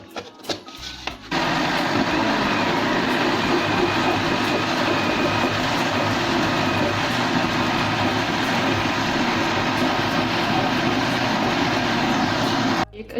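A kitchen blender whirs steadily through an energy booster milkshake made with milk and sugar, starting abruptly after a brief pause and then running loud and continuous for over ten seconds before cutting off.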